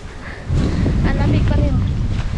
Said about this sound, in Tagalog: Buti merong hangin.